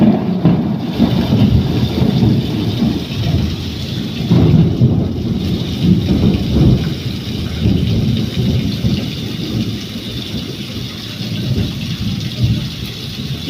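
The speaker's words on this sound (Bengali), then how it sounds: "কথা বলতে বলতে বৃষ্টি চলে আসতে শোরুমে আটকা পড়ে গেছি আমরা" Heavy monsoon rain pounds down outside a showroom while deep thunder rumbles roll in and fade, loud and close, under a constant roar of falling water.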